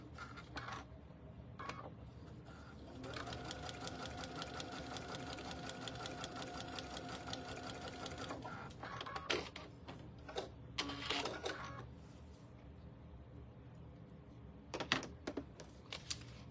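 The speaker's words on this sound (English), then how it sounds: "I'm going to sew that seam line right there." Sewing machine stitching a seam on a quilt sampler, a fast rhythmic whir in a sustained run, followed by shorter bursts of stitching and clicks, close and moderately loud.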